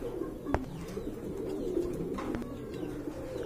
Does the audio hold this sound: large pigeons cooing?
yes